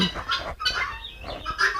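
Hens cluck and squawk on a poultry farm where the birds lay eggs everywhere, several birds calling over one another in a busy, close chorus with no talk.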